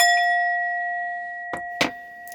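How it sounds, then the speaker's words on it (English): A struck chime rings out with clear sustained metallic tones that slowly fade, followed by a couple of sharper bright strikes near the end, loud and close with no talking. "I'm gonna chime us all in, right? Cover your ears if it's too loud."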